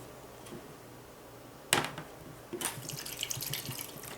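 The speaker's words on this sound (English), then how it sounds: "Now we're going to add this marinade." Marinade pours over strips of eye of round beef cut for jerky, a faint splash followed by a soft, steady trickling and liquid sloshing in a quiet room.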